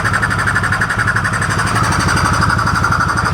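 A Polaris Sportsman ATV engine idles loudly and roughly up close with its intake removed, giving a steady rapid chugging pulse and a raw, unmuffled rasp.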